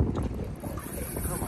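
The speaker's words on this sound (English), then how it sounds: "It is windy." Strong wind buffets the microphone on a fishing boat out on open water, a continuous loud roar and rumble with no letup.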